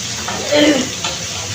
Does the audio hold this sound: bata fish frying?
yes